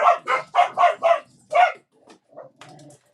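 A dog barks in a quick burst of five sharp, loud barks close by, pauses, gives one more bark, then trails off into a few softer yips and whines.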